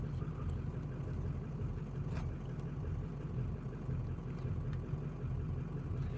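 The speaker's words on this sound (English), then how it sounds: "So the truck's running great." Low, steady engine idle of a truck heard from inside the cab on a winter day, a constant deep rumble with faint higher noise, no talking.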